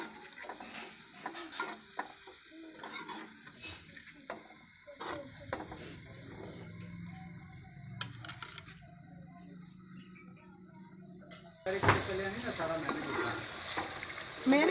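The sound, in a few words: masala with chili, coriander and salt cooking in a pan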